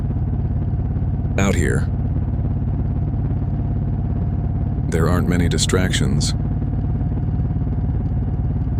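A motorcycle engine runs on a quiet road as a steady, low droning rumble through the whole stretch, while a voice speaks over it in two short bursts.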